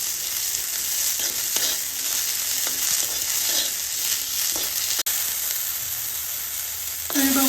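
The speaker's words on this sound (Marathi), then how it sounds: "मटार हे भाजायला एक 2 ते 3 मिनिटं लागतील आपल्याला" Fresh green peas dry-roast in a pan over a low gas flame and are stirred continuously, giving a steady close-up sizzle broken by repeated soft scraping strokes, with no talk.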